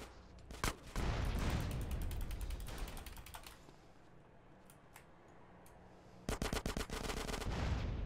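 Bursts of video-game gunfire aimed at a gas tank, a rapid volley of loud shots early on, then a quieter stretch of mechanical clatter before another fast burst near the end.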